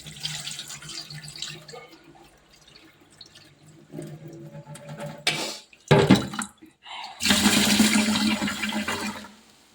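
White rice is washed in water, with running and splashing water and rushing pours at moderate loudness, alternating with a few quieter pauses and clatters.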